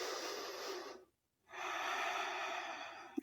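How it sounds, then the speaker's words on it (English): Deep, slow breathing during a prenatal yoga session: a long breathy exhale, a short silent pause, then another long airy breath, close and soft, no talk. "Take a deep breath in. Exhale it out."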